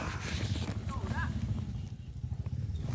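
Horse hooves clip-clopping at a steady walking pace, close and fairly loud, with people talking over them throughout.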